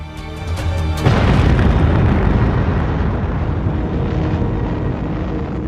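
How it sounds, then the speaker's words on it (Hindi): The first atomic bomb test in July 1945, a deep rumbling blast that swells suddenly and then rolls on as a sustained low roar that slowly fades. "16 जुलाई 1945 को सुबह लगभग 5:30 बजे दुनिया का पहला एटॉमिक बॉम्ब टेस्ट किया गया।"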